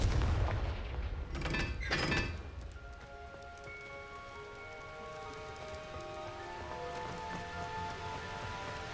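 A Confringo blasting curse is cast in Hogwarts Legacy, two loud explosive bursts about a second apart near the start, then fading into a sustained ringing shimmer of magical tones that lingers to the end.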